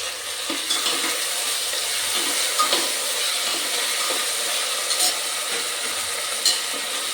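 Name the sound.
tomatoes sautéed and stirred in pan for aloo matar pulao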